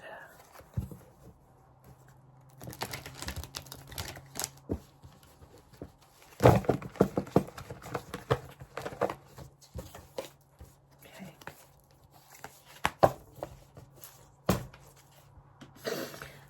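Crisp papery riffling and soft slaps of tarot cards being shuffled by hand, in repeated bursts over a low steady hum, with brief quiet gaps between.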